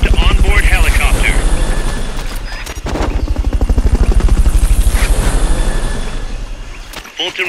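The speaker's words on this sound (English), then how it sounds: "recovery subject confirmed onboard helicopter" Helicopter in the Metal Gear Solid Peace Walker video game, a loud continuous rotor chop with steady beating pulses throughout, with speech from the game layered over it.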